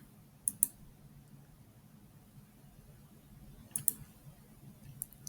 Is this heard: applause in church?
no